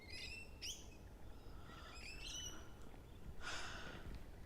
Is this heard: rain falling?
no